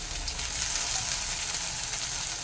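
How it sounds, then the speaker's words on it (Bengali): Onion with a little crushed garlic frying lightly in a pan for a light chicken broth, a steady close hiss and sizzle that continues evenly with no talking. "দেখো পেঁয়াজটা আমার একটু হালকা ভাজা হবে পেঁয়াজের সঙ্গে দিয়ে দিচ্ছি একটা ছোট্ট রসুন"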